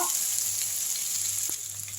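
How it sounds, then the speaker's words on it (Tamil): Masala sautéing with curry leaves in a pan for roadside-style vada curry, a steady bright sizzle with a soft scrape of stirring near the middle. "நல்லா வதக்கி விட்டுருங்க இதுலேயே கருவேப்பிலையும் எடுத்து போட்டுருங்க"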